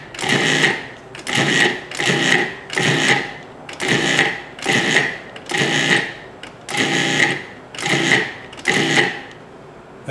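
A food processor pulses biscuit topping mix into coarse meal, giving about nine regular, loud whirring bursts separated by short pauses.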